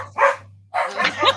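Household dogs bark at home during an evening crafting chat: two close, loud bursts of barking with a short quiet gap between them.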